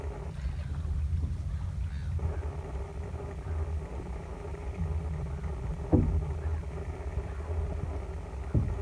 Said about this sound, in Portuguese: Escuto apenas o deslizar do navio